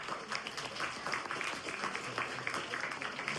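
A school annual day audience applauds continuously, the clapping steady but fairly faint and distant, with a light bed of crowd noise underneath.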